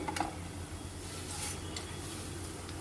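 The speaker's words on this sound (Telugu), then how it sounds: "ఇప్పుడు జీలకర్ర వేసుకోవాలి" Cumin seeds dry-roasting with coriander seeds and urad dal in a pan give a steady low rustle and faint sizzle, with occasional light scrapes of a stirring spoon, close by.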